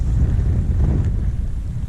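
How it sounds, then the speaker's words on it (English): Strong wind buffets the microphone on a lake while fishing for crappie from a boat in autumn, a loud continuous low roar with gusty rumbling and no talking. "I'm getting blown back. It's so windy out."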